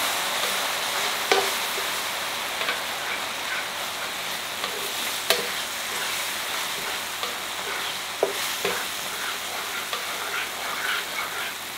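Fish with white wine sizzles steadily in a frying pan while a utensil stirs it, making occasional light scrapes and clicks over the constant hiss.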